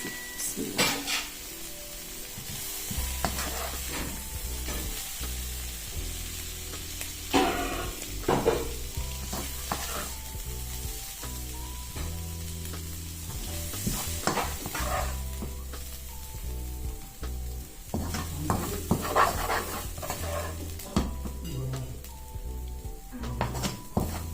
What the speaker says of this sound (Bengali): হয়ে গেল আমার পাঁচ মিশালি শাক ভাজি